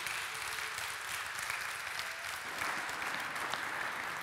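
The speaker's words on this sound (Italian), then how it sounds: "chiederei al pubblico di fare un applauso per tutti i contributi che abbiamo raccolto oggi" Steady, dense applause from a large forum audience, continuous clapping throughout with no voices standing out.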